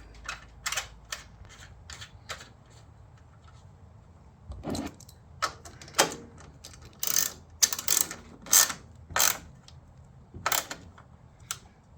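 A bolt is tightened on a Jeep Wrangler JK, giving close, sharp ratchet clicks in short irregular bursts separated by brief pauses.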